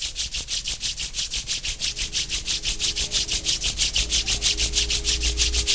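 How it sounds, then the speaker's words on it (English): Palms are rubbed together briskly during a yoga class, making a loud, close, rhythmic swishing that repeats about four to five times per second, steady throughout with no talk. "Rub your both palms."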